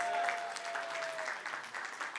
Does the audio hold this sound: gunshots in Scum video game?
no